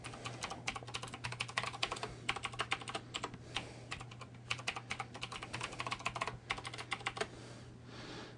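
Rapid, steady typing of a username on a computer keyboard, with dense irregular key clicks running throughout at close range and no talking.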